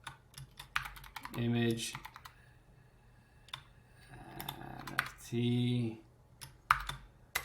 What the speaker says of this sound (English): if you're confused at what I'm typing right here